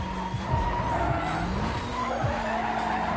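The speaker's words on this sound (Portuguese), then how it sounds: "Olha o drift" Tires squeal in a long, loud drift from a supercharged car in the Need for Speed Most Wanted racing game, with a steady engine roar and repeated skid swells running throughout.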